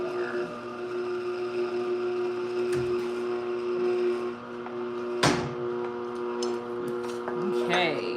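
A juicer pressing oranges runs with a steady motorized hum and tonal whine, close and continuous, with a few clunks and knocks partway through while a person talks over it.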